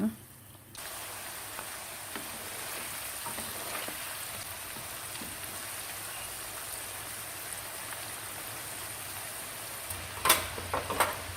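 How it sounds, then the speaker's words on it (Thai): Steady sizzling of potatoes frying in hot oil, a constant crackling hiss with a few sharper pops near the end. "พอน้ำมันร้อนเราก็เตรียมทอดมันฝรั่งนะคะมันฝรั่งลงไปทอดเลยจ้า"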